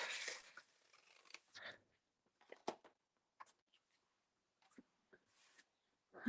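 Scissors snipping off a piece of scrap paper strip during a papercraft session, a few short, quiet crisp cuts and rustles separated by silence.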